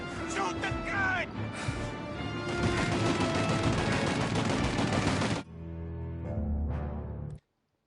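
Rapid turret gunfire in Mafia Definitive Edition, a loud sustained barrage of shots lasting about five seconds, then an abrupt cutoff into quieter rumbling.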